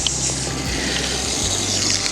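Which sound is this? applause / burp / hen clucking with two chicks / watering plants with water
watering plants with water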